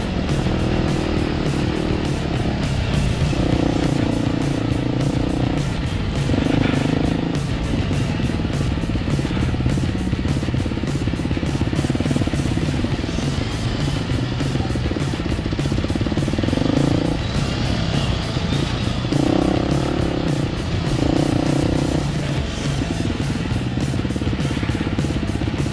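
A Husqvarna dirt bike's engine chugs at a slow, low idle on a hill climb, loud and close and continuous throughout. It carries steady putting with some clattering.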